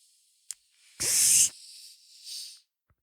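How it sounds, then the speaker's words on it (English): A bottle of Coca-Cola being opened: a short click, then a loud hiss of escaping gas, followed by a softer second fizz, close by with no talk. "that was me opening a bottle of Coca-Cola"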